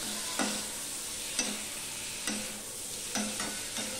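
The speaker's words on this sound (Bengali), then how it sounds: "এবার শিমটা আমি সম্পূর্ণ আলু মশলার সাথে মিশিয়ে নিচ্ছি।" Beans are stirred into a potato masala in a frying pan, with a soft steady sizzle and several distinct scraping strokes of the spatula at irregular intervals, close up and with no talking.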